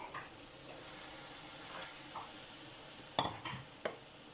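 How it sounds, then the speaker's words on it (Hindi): Carrot and cabbage stir-fried in a pan for a vegetable biryani, with a quiet steady sizzle under faint scraping and a few sharp clinks of a spoon against the pan near the end. "तो इन्हें भी अच्छे तरीके से मिक्स करके भूनेंगे 2 मिनट"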